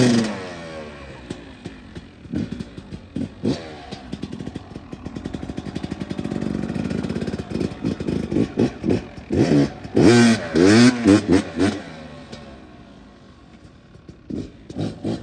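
Motorcycle engine fitted with aftermarket clutch weights starts up and idles, then is blipped through a series of sharp revs near the end, loud and close with no talking.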